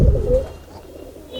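A racing pigeon in a loft gives a short, soft coo close by, a single low throaty call that fades quickly into quiet.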